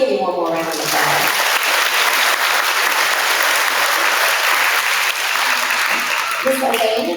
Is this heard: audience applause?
yes